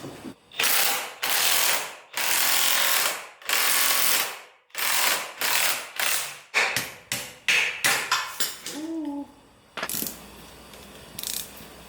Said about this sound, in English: I've just got a ball joint press. And so hopefully this will go ahead and push it on out